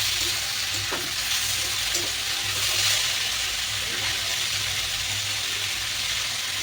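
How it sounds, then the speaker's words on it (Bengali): Onions fry with salt in a pan for a dhaba-style paneer dish, giving a steady, loud sizzle with occasional stirring scrapes throughout. "একটুখানি এখানে নুন দিয়ে দিচ্ছি যাতে তাড়াতাড়ি এটা ভাজা ভাজা হয়ে যায়।"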